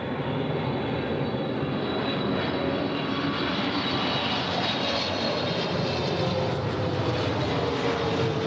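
A China Airlines jet airliner at LAX gives off a steady, moderately distant engine roar with a faint high whine, continuous throughout and free of speech.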